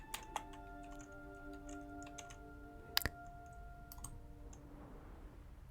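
Computer keyboard keys click in scattered, quiet taps alongside occasional mouse clicks during relaxed gameplay, close up and soft, with a sustained tonal game sound underneath.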